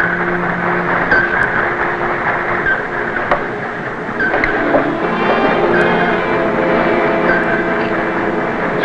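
Propellers of a procession of surface ships churn past directly over a submarine in a wartime film sequence, a steady dense rumbling wash with faint tonal hums and occasional sharp ticks, swelling slightly as the ships pass.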